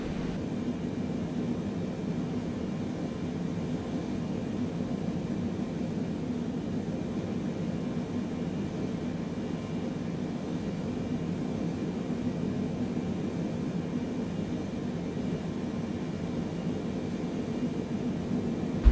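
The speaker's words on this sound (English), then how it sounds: "I'm just gonna go ahead and continue taxiing to the runway" A Boeing 777 taxiing toward the runway in Microsoft Flight Simulator 2020, heard as a steady, low jet engine rumble with an even broadband roar that holds constant throughout.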